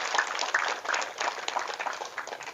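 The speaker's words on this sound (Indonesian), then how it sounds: "Tepuk tangan." Audience applause at a rally-style speech, a burst of brisk, dense clapping from a crowd heard at moderate distance, lasting a couple of seconds.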